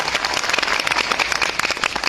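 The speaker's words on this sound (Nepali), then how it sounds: "जोरदार ताली कृपया उहाँहरूको लागि।" An audience claps for honored guests Dr. Bhimsen Gurung and Indira Gurung at a formal event: dense, steady applause from many hands, loud and continuous throughout.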